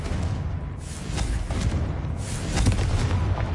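Confringo blasting spells explode in Hogwarts Legacy, giving repeated loud booming bursts over a dense, rumbling wash of noise, with a few sharper cracks and no talk.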